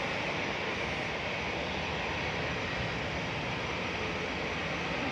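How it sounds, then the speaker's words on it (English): A Ryanair Boeing 737-800 jet departs Manchester Airport, its engines giving a steady broadband roar that stays even and fairly distant throughout, with no voices. "EMC is about to depart with flight 9844, 737-800."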